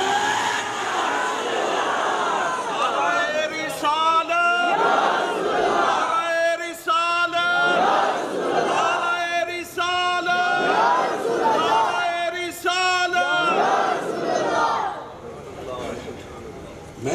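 A large crowd at a religious gathering shouts a naara slogan in loud, repeated, voiced bursts. The chants come in rhythmic waves for most of the stretch, with the roar of voices fading near the end.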